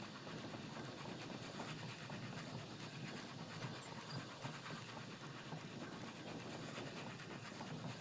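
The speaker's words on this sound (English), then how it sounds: "This is the stinky train." A moving train in the video game Oddsparks gives a steady, continuous rumble with rhythmic clatter that holds at an even level throughout.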